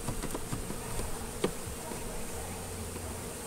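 Honeybees swarm around a hive lid, a continuous dense buzzing hum of many insects close by, fairly quiet and steady, with individual bees droning past.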